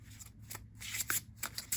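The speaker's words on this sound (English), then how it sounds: "tough shuffling at first because I haven't shuffled this deck just yet" A new, never-shuffled tarot deck is shuffled by hand in short bursts of crisp card riffling and flicking, close and fairly quiet, with small pauses between strokes.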